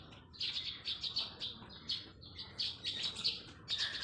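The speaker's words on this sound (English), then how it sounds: "Look at all the sparrow eating the brown color huat kueh that I just offered." Sparrows chirp in quick, bright bursts while feeding on brown huat kueh offered on Kusu Island, a lively cluster of near, overlapping calls over faint background hum.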